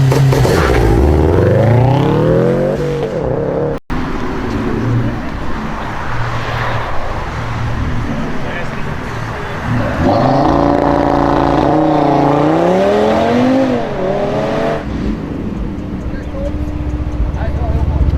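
A Fiat Elba engine revs hard in repeated sweeps, pitch climbing and falling as it is held against a two-step style launch limiter, loud and close, with someone talking over and between the revs.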